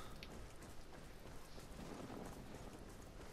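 Rain falls steadily in Ghost Recon Wildlands, a faint, continuous hiss of drops across the scene with no voices.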